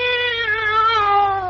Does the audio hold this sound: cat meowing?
yes